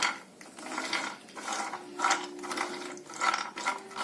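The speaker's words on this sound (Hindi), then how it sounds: "अब आप इसको एकदम धीमी आंच पे चलाते चलाते भूनते रहिए" Cashews being stirred and roasted in a pan over low heat, giving repeated scraping, rattling strokes in a steady rhythm, close and moderately loud, with no talking.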